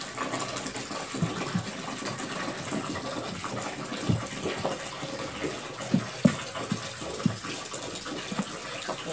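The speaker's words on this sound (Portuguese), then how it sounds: "Vou botar o balde para encher aqui, que agora eu vou começar a colocar água fria" Cold tap water running into a bucket while making liquid glycerin soap, a steady rushing gush with occasional clunks and splashes, moderately quiet and continuous.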